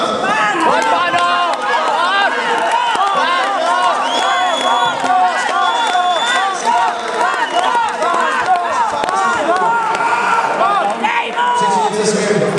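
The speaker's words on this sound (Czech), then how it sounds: "Pojďte ještě zaskandovat." A dense crowd at a boxing gala in Pardubice chants and cheers loudly and continuously, voices rising in repeated rhythmic swells that fill the hall for the whole stretch.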